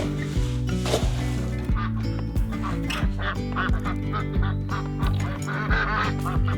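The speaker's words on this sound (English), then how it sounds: "we'll go ahead and let all these chickens and ducks out and tend to the morning chores" Ducks and chickens on a homestead are let out of their coop in the morning, with loud, repeated quacking and honking close by, overlapping calls running continuously over the whole stretch.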